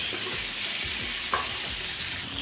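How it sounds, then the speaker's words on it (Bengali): Pointed gourd (potol) slices fry in oil over a low-to-medium gas flame, giving a steady, close sizzle with faint stirring and spattering throughout. "তুলে নেবার পর ওই তেলের মধ্যে আমি ভেজে নিচ্ছি কিছু পটল"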